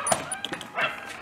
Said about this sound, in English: those two dogs over there fucking bark all the time.